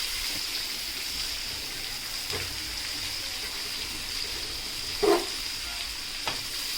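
Pomfret fish pieces fry in a pan, giving a steady soft sizzle with a few small clinks and stirs as the pieces are turned.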